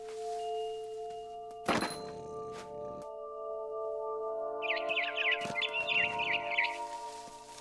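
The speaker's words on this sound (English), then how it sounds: "Then I heard chirping outside my window. It was a barn swallow going back to her nest." A barn swallow in the game What Remains of Edith Finch, heard as a quick burst of chirps partway through, after a couple of dull thunks against a quiet humming background.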